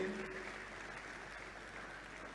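An audience at a university event gives a round of applause, a dense, steady wash of clapping that starts a little stronger and then holds even for a couple of seconds.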